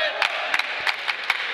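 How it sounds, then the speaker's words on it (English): An indoor wrestling crowd at a pro wrestling show on a hardwood floor keeps up a dense, steady roar of voices, with sharp rhythmic claps or chops cutting through several times. "Crowd chanting, he's a hybrid"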